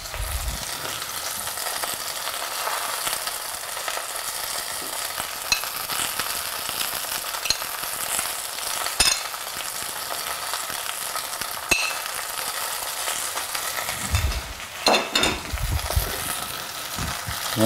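Onions fry in a pan with a dense, continuous sizzle throughout, joined by occasional stirring scrapes and clinks near the end. Close and steady, with no voices.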